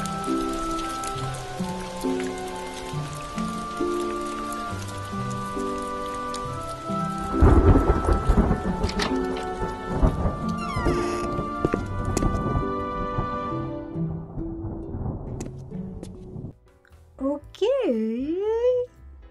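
Rain and thunder in an animated short: steady rainfall and heavy thunder rumbles mixed with soft music, the storm peaking midway before fading into quieter tones near the end.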